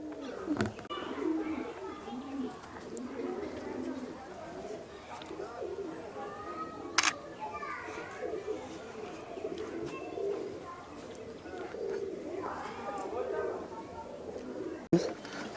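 Pigeons coo steadily among a busy crowd at a Kolkata pigeon sale, with loft-bred, Pulsar and blind pigeons on offer, the soft calls blending into a low murmur of voices and occasional brief sharper noises.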